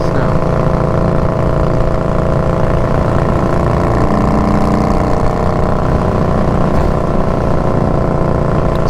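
A car engine fitted with a Hacker Mayhem exhaust, baffles removed, runs with a loud, steady, close droning rumble that holds an even idle throughout, with no talking.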